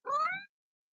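A house cat gives a single clear, drawn-out meow lasting about half a second, close and fairly loud, with silence afterward.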